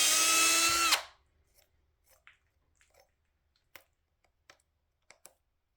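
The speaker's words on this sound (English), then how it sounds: "And I use a step-up bit." Power drill fitted with a step-up bit boring into a bass guitar body, one loud high whine lasting about a second that stops abruptly, followed by faint scattered clicks and taps in a quiet room.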